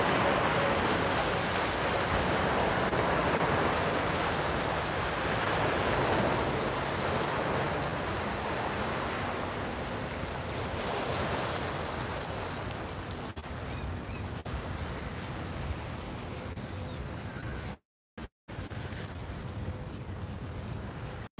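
Steady wash of waves lapping and surging on an open bay, stirred up by passing boats, with wind noise over the microphone and a faint boat rumble in the distance.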